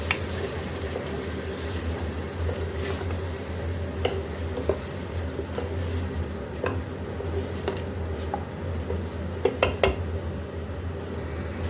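Keema with garlic, ginger and chili stirred in a pot over low sizzling, with soft scraping and occasional clinks of the spoon against the pot, close and steady, with no talking.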